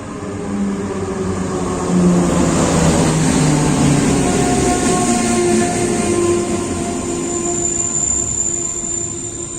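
A train rolls past close by at a Polish railway station in frosty weather, a loud continuous rumble with high metallic wheel squeals drifting over it, no voices.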